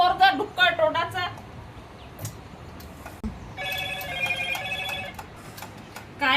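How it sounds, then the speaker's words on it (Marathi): A telephone rings at close range: a bright melodic ringtone bursts out at the start, then a longer stretch of the same ringing returns later, with people talking in between. "हा फोन तर फोन वाजते"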